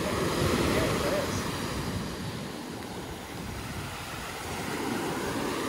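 Rough surf rolling onto a Sanibel beach, a broad continuous roar that swells and eases, mixed with wind buffeting the microphone.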